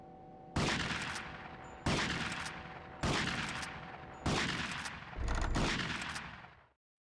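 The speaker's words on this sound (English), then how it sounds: "Assault rifle?" Assault rifle fire in GTA: Vice City Stories, five loud booming bursts spaced about a second apart, each with a long decaying tail, then silence.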